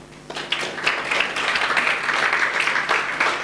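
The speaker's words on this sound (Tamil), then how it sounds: "ஒரு கைத்தட்டு." A congregation at a church sermon breaks into applause, a dense, steady clapping that swells after a quiet start and holds throughout.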